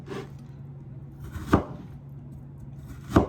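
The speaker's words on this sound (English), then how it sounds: "So I like to just bam, just slice them like that" A knife slices through food on a board, cut pieces dropped into a bowl, with two sharp chopping thumps about a second and a half apart over a steady low background hum.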